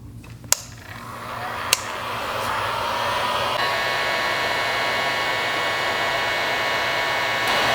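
A heat gun blows steadily at 3-to-1 adhesive-lined marine heat shrink tubing on a cafe racer wiring harness, a loud continuous whooshing rush with a couple of sharp clicks near the start and no talking.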